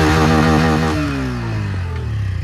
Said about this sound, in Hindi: अगर फ्यूल इंजेक्शन का जो कट होता है उसकी आवाज़ सुननी आपको